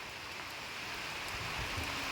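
Rain falling in Cherrapunji: a soft, even hiss of steady rainfall with faint low rumbles, heard alone and at a low level throughout.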